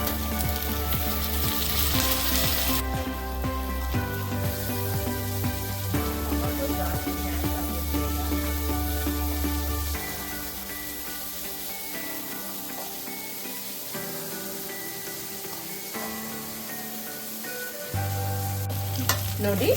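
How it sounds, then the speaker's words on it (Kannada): Masala for upma fries and is stirred in a pan, a continuous close sizzle with scraping stirs running under prominent background music. "ಅದು ಹಾಕಿ 1 ನಿಮಿಷ ಫ್ರೈ ಮಾಡ್ಕೊಳ್ಳಿ."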